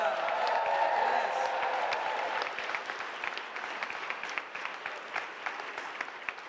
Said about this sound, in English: How about another cheer for the class of 2025?